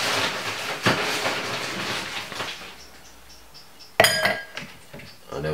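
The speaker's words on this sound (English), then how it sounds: "basically right here we're gonna put some ice in our glass" Ice dropped into a glass while serving beetroot juice, a dense clatter of cubes at the start, a quieter lull, then a sharp bright clink and rattle of ice against glass close up.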